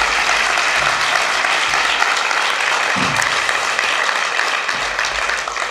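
Audience applause fills a hall at the opening session of a festival, a dense, steady clapping that holds throughout at close range with no talk over it.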